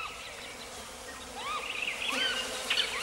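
Busy buzzing of bees at a palm tree's yellow flowers, several insects droning close by and rising a little louder in the second half, with occasional chirpy bird calls behind.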